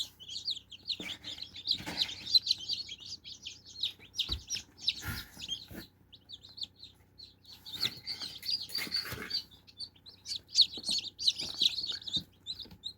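A brood of all-black chicks from a black-meat, green-egg chicken breed cheeps constantly in shrill, overlapping peeps close by, with occasional soft thumps and rustles among them.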